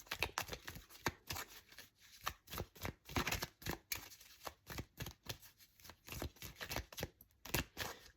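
Tarot cards are shuffled close by in a quiet room, with a rapid, uneven run of soft riffling flutters and slaps.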